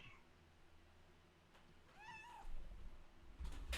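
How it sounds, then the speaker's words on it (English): A house cat meows once at close range, a short rising-and-falling call in the middle, surrounded by quiet room sound and a few soft bumps. "This is my kitty cat."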